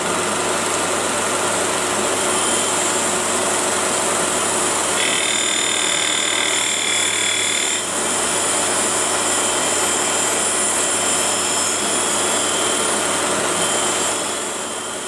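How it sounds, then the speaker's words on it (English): A cylindrical grinder grinds bearing-seat diameters on a shaft held between centers, giving a loud, steady high-pitched whine with a constant hum under it. A brief shrill tone comes in partway through. "So I'm grinding the diameters that fit on the bearings."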